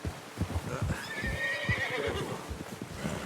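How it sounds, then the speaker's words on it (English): A horse in the video game Red Dead Redemption 2 whinnies in a long, wavering cry over the steady clip-clop of hooves, fairly close and clear. "Get that horse in line, Arthur."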